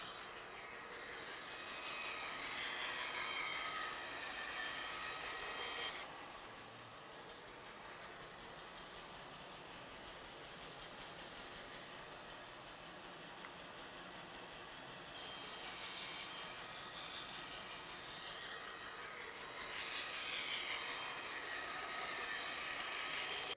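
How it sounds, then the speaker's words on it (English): A bandsaw with a power feeder slices wood laminations from billets in a steady, continuous rasping cut that swells and eases over a long pass, heard alone. "slice up a bunch of laminations using a power feeder"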